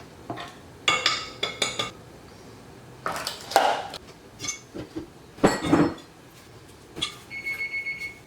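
Spatula scraping the sides of a mixing bowl of tres leches cake batter after the flour is added, a series of short scratchy strokes and clinks against the bowl with brief pauses between them, close up and fairly quiet.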